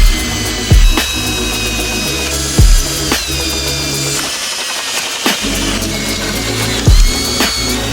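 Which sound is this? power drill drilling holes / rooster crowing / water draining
power drill drilling holes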